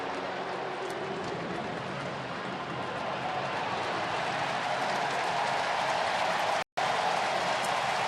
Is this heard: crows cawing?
no